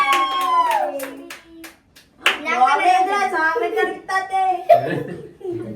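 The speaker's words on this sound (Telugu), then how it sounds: "క్లాప్" Hands clap at a wedding anniversary and birthday cake-cutting gathering, quick claps mixed in with lively overlapping voices and singing from several people, adults and children close by.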